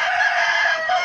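A young Asil rooster crows once, loud and close, in a single sustained, strained call.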